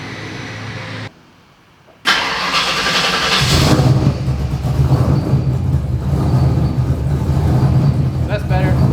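Foxbody Ford Mustang V8 running a Holley Terminator X ECU cranks and catches after a short pause, then settles into a loud, steady idle with a low rumble close by and no talking.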